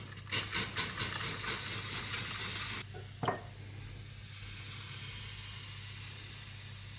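A spray bottle spritzing water onto bread dough, about six quick rhythmic hissing bursts in a row, followed by a single short click and then low steady background noise, close and faint.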